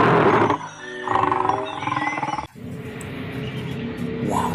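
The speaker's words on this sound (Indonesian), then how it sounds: "Wah, ada singa. Mantul." A toy lion on a plastic animal truck plays a recorded roar, loud and close, with several roaring bursts broken by short gaps and a sharp cut partway through.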